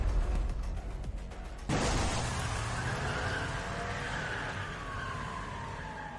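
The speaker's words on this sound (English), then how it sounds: "Get in the car and do a classic getaway chase." A car roars through a getaway chase in the video game A Way Out, with an engine droning close, an abrupt impact or skid partway through, and a police siren wailing in the background.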